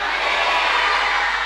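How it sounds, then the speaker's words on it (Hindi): Congregation at a women's church conference making loud, sustained crowd noise, a dense, steady roar of voices and applause filling the hall. "क्या हम लोग प्रभु के लिए जोर से तालियां बजाएंगे?"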